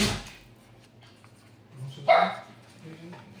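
A pet dog barks at close range: one sharp bark partway through, with faint yips and whimpers around it, and people talking nearby.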